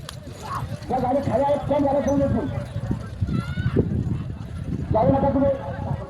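Hooves clatter along amid a crowd's shouting and chatter as a bullock cart races past in a bullock cart race, the hoofbeats buried under loud voices.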